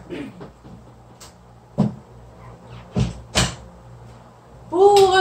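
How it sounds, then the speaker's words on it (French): An indoor door being pushed shut, heard as a few soft knocks and a sharper latch click in a quiet room, followed by the start of a voice speaking. "Attendez, je ferme ma porte."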